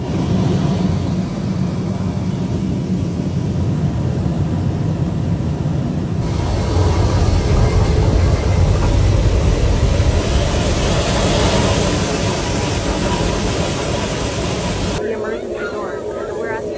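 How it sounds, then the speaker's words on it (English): Boeing 737 MAX 9 airliner in flight, a steady loud roar of engine and airflow noise filling the whole clip, with the tone shifting partway through and a brief change near the end. "That was a Boeing 737 MAX 9 plane."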